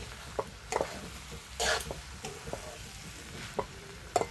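Okra masala is stirred and mixed in a pan, giving a faint sizzle with several short scraping and clinking strokes of the spoon at irregular intervals, close and quiet.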